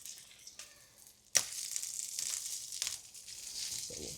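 Sheepshead fish fillets frying in butter in a pan, a soft crackle that jumps into a loud, close, continuous sizzle as they are flipped, with light stirring scrapes toward the end.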